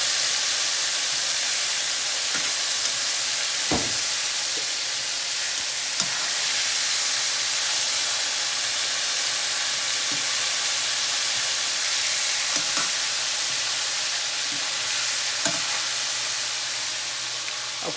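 Country steak sizzles steadily as it browns in a frying pan, a loud, continuous close hiss with occasional faint clicks and taps from turning the meat, and no voices.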